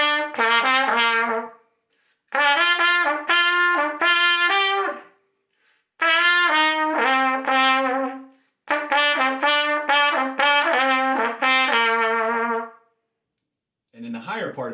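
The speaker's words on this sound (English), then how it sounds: "This is the trumpet." A trumpet plays in the lower part of its range, with bright brassy phrases of several detached notes separated by short silences, loud and close with no voices.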